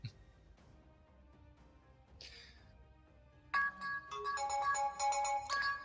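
A mobile phone ringtone starts midway after a quiet stretch with faint chimes, playing a bright repeating melodic pattern of tones, moderately loud and with no one speaking over it.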